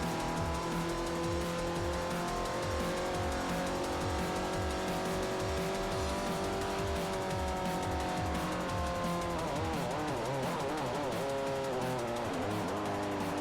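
A race car in Forza Motorsport 4 howls at high revs with traction control off, the engine droning steadily under a rough, raspy tire squeal, then warbling and wavering as the wheels spin and the car slides.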